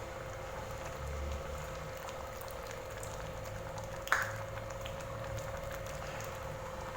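A brinjal and potato curry cooks on high flame, giving off a steady bubbling, hissing simmer throughout, broken once by a brief utensil clink.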